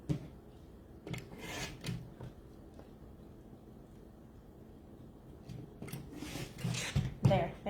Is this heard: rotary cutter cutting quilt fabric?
yes